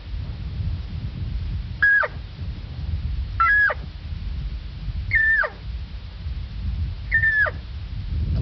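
Four spaced, drawn-out calls imitating a lost elk cow, each a high mewing note bending sharply downward, blown loud and close with pauses between them over steady low background noise.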